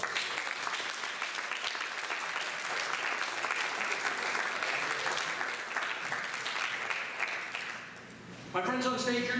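Sustained audience applause at a hypnotist's stage show at a college, steady and full for about eight seconds before fading, after which a voice begins speaking.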